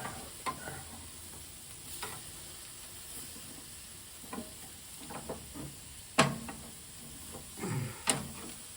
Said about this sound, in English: As you can see, we're getting a nice sear on these bad boys.